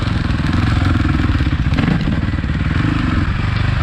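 A Suzuki RMZ450 dirt bike engine holds a steady, loud, close-up throbbing drone with rough clattery texture throughout, consistent with engine braking while riding.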